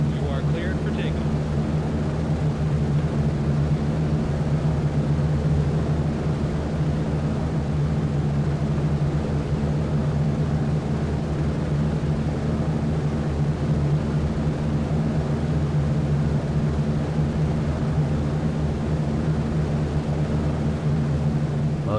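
A steady, droning roar from the radial engines of a B-17 Flying Fortress bomber in flight in a video game, constant and loud with a low rumbling hum and no break through the whole stretch.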